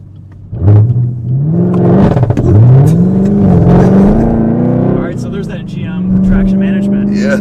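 A Chevrolet Camaro ZL1 V8 revs hard and bounces against the rev limiter, the pitch rising and falling in loud repeated surges, with people talking over it.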